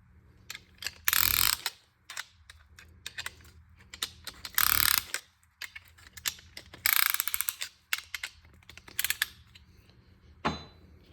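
A cheap ratchet-style piston ring compressor is cranked tight around a piston for a 4.6 4V engine build, producing bursts of rapid metallic ratchet clicks separated by pauses and quieter handling noises, close and fairly loud.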